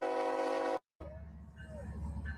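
A loud train horn blasts, cuts off briefly, then the rumble of a passing train follows with a fainter whistle tone rising over it; the train is number 1776.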